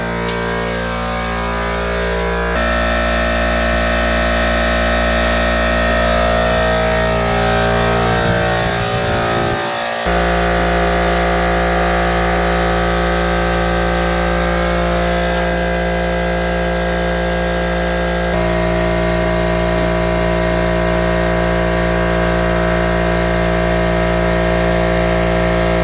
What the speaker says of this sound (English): is that like your normal paint gun?